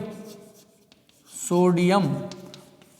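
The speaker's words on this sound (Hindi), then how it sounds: "यहाँ पर पूरा नाम लिख देता हूँ" Marker or chalk writing on a board during a Hindi biology lecture on gel electrophoresis, soft strokes under a teacher's close, continuous speech.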